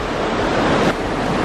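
Loud, steady roar of rushing white water at the Storforsen rapids, a dense continuous wash filling the whole stretch with no voices or breaks.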